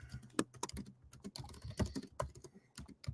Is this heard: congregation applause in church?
no